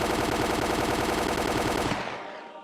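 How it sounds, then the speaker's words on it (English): Soldiers fire on escaping people in a dense, rapid burst of automatic gunfire that rattles loudly and continuously for about two seconds before cutting off and ringing out in a fading echo. "The sound of the gunshots echoes in the silence."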